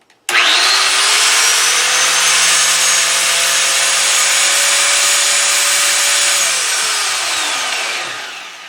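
Angle grinder running with its guard removed, spinning up sharply to a loud, steady high whine that holds for several seconds before winding down as the motor coasts to a stop, heard alone up close.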